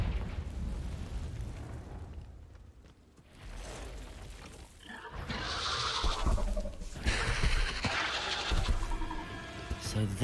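A Confringo blasting curse goes off in a Hogwarts wizarding video game, a muffled burst followed by a rumbling, crackling blast that swells and lingers, heard with game sounds and some voices around it.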